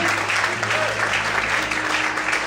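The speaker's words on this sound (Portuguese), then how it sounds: "Vamos para glorificar e aplaudir ao Senhor nessa noite." Church congregation applauding during an evening worship service, a continuous wash of clapping held at an even level throughout, with a low hum in the background.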